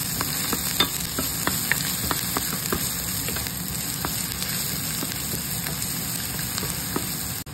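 Dried fish (tuyo) frying in reheated, reused cooking oil: a steady loud hiss of hot oil dotted with regular sharp spits and pops, close by and without talk.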